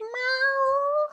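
A house cat gives a single clear, drawn-out meow, close and loud, heard alone indoors.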